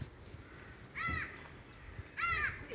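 Crow cawing outside a house near a water drum, two separate harsh calls about a second apart, fairly faint and distant over a quiet background.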